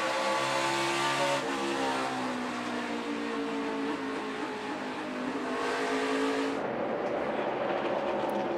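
A NASCAR Xfinity Series race car engine screams under throttle, a loud, sustained howl that shifts pitch as it revs and passes, with a sharp drop near the end and no commentary over it.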